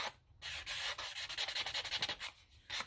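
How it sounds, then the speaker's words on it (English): Sandpaper rubs the edge of paper for a junk journal in quick, close, repeated strokes, a loud rasping rhythm broken by short pauses and no talking. "you're basically just using the sandpaper"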